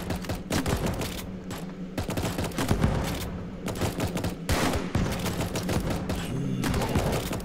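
In the Roblox game Tower Defense Simulator, a tower fires rapidly in dense, continuous volleys, with many sharp gunshots and booms overlapping into a loud fusillade for the whole stretch, and no voices.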